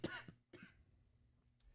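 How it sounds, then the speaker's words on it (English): A man's persistent dry 'Bahrain cough', two quick coughs close together, then a short pause and a third brief cough, fairly quiet and near, with no talking. "You may have to cut these coughs out."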